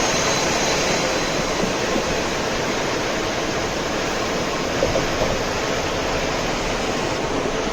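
A vehicle speeding along a road gives a steady, loud rush of road and wind noise that holds unbroken throughout, with no voices.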